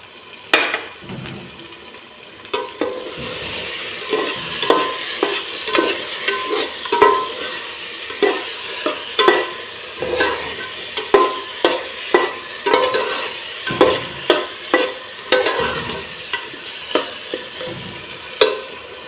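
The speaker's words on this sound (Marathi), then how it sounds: "आता हे व्यवस्थित फ्राय करून घेऊयात" Spicy chicken sukka with curd frying in a pan while being stirred: a steady sizzle under repeated, rhythmic spatula scrapes and knocks against the pan, close and fairly loud.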